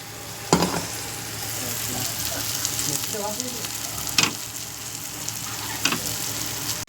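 Pieces of pomfret fish frying in a pan, a steady bright sizzle with occasional louder pops and crackles as pieces are moved, no talking.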